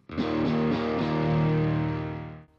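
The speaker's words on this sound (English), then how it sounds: "A nice sort of clean chimey tone with lots of attack with the compressor, and then a kind of a lower underbelly of distortion." An electric guitar chord through a Boss GX-100 with a compressor rings out with a bright, chiming attack and a gritty distorted edge, struck a few times before sustaining and cutting off.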